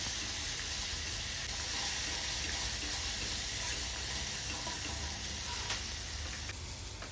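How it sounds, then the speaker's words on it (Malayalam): Ginger garlic paste sizzling in hot oil in a pan, a steady close, bright frying hiss with faint stirring scrapes throughout, no voices. "ജിഞ്ചർ ഗാർലിക് പേസ്റ്റ് 1 ടീസ്പൂൺ അതിലേക്ക് ഇടും. എന്നിട്ട് അത് നന്നായിട്ട് മൂപ്പിക്കുക"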